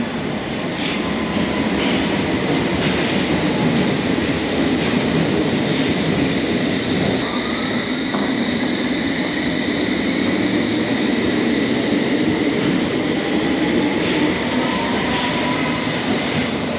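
A London Underground train rumbles loudly and continuously between stations, with steady wheel roar, occasional clicks over rail joints and brief metallic squeals.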